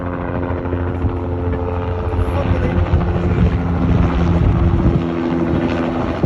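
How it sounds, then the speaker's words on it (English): A Tucson police helicopter circles low overhead, its rotor drone a loud, steady thrum with wind buffeting the microphone throughout. "This is the Tucson police helicopter."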